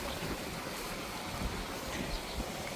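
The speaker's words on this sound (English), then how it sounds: "we've got a lovely waterfall over the bridge, or next to the bridge." A waterfall beside a bridge in Cebu, a steady broadband rush of falling water with some wind buffeting, continuous and fairly loud.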